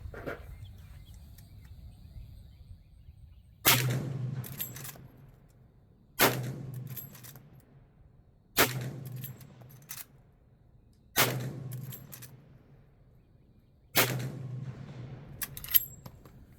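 Marlin 1895 Trapper lever-action rifle in 45-70 with a short barrel firing outdoors, five sharp loud shots spaced about two to three seconds apart, each with a brief ringing decay and quiet between.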